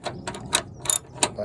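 A ratchet clicks in short bursts while bolts on the front wing of an MG ZR are adjusted, with several quick rattling strokes close up and no talking.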